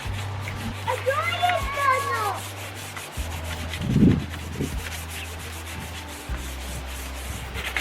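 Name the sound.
sanding a wooden table by hand with 150-grit sandpaper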